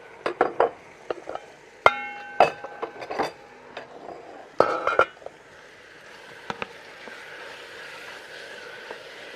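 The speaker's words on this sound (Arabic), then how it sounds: "ننزل بقى باللحمه على الدهنه كده عشان نديها صدمه" Chunks of meat dropped into hot fat in a cooking pan, a few sharp sizzles and clatters near the start, then scattered clinks of utensil and pan, fading to a quiet low hiss.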